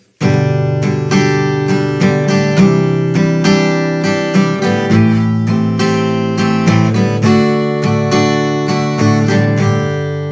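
Steady, full guitar strumming cycles through a repeating set of chords, each chord struck in a continuous rhythmic pattern, loud and close, with no voice.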